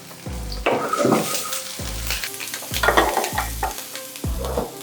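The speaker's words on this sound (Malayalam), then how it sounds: "നെയ് ഇതിലേക്ക് നമുക്ക് കടുക് ഇട്ട് കൊടുക്കാം" Mustard seeds and spices sizzle steadily in hot ghee in a Kerala-style pan, while a spoon scrapes and knocks against the pan in a regular stirring rhythm, close and fairly loud.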